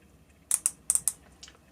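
Dive watch bezel on a Doxa 200 is turned by hand, giving a handful of sharp, close clicks in two quick bursts, crisp and slightly coarse against near silence.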